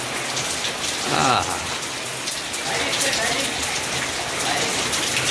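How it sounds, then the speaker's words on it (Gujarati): Steady rain pours down, a dense hiss of drops striking surfaces, while a person briefly laughs and speaks over it. "વરસાદ ધીમો ધીમો ઝરમો ચાલુ થઈ ગયો હતો આમ જો અત્યારે થાવ હમણાં કરતાંય વધી ગયો"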